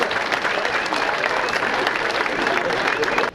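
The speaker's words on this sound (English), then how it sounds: "How about a round of applause for everybody involved with that book?" Guests at a sturgeon conservation chapter dinner give a steady round of applause, a dense, even wash of clapping that fills the room throughout and cuts off abruptly at the end.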